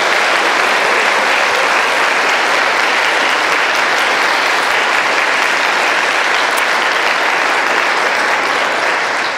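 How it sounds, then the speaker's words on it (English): An orchestra concert audience at a Christmas celebration claps in sustained, even applause, dense and loud from start to finish with no talking. "Can we give Dr. Chris Turnahoy and the team here another round of applause"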